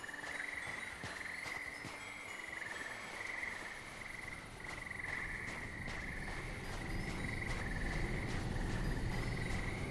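Frog croaking steadily in a repeating rhythm, faint and somewhat distant, with insects chirring and a low background rumble and no talking.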